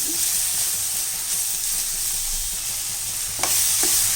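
Onions and tomatoes for Chettinad chicken curry sauté in a pan, a continuous close sizzle and hiss with soft rhythmic stirring scrapes and a sharper clink near the end, no speech.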